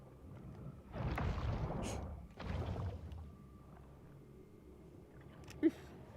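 A deep, rumbling whoosh swells twice in broad noisy bursts as a ship sails through water in a video game, then fades to a low steady hum with a brief click.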